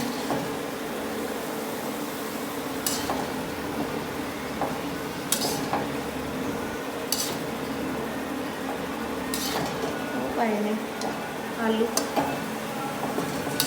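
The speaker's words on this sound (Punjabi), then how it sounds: "ਹੁਣ ਇਹਨੂੰ ਸਾਰਾ ਘੁਮਾਉਂਗੀ ਨਾ ਮਸਾਲੇ ਨੂੰ" Spices sizzle softly in oil in a pan while a spoon stirs and scrapes, with occasional sharp clinks of metal on metal, fairly faint and close.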